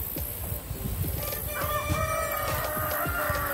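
Several chickens cluck steadily near the microphone, with a rooster crowing partway through at moderate loudness in a backyard flock setting.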